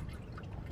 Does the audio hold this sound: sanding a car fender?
no